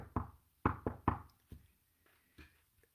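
Ceremonial knocks from the officer playing Leo: a single rap, then three quick raps, then softer scattered taps trailing off, close and dry in a quiet room with no talking.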